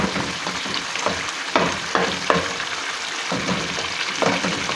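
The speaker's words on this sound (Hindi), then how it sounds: "ऐसे ऐसे करके मैं सारे टमाटर फोड़ लेती हूँ ताकि इसके अंदर मिक्स हों" Tomatoes are pressed and fried with mutton in a kadhai, a close sizzle broken by repeated thumping, scraping strokes of a spoon against the pan.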